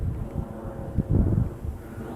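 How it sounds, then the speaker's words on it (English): Wind buffeting a camera microphone outdoors on a summer day, a low rumbling roar that swells and surges midway before easing, with no voices. "the wind's about to come and ruin the whole situation"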